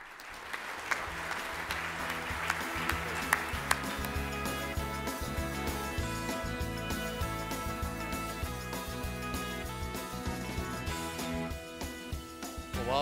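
An audience at the 2012 INFORMS Edelman Awards Gala applauds the finalist teams, sustained clapping over music that keeps going for the full stretch.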